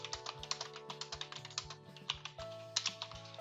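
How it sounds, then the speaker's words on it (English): Rapid keystrokes on a computer keyboard while entering task details into project-management software, a steady run of close, crisp clicks over a faint background hum with no voices. "you type in your details"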